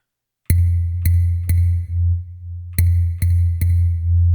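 Six sharp synth hits with deep, booming low tails, in two groups of three, dry and close with no voices.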